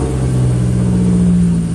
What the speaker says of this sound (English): As you can see, I can rev the engine all the way.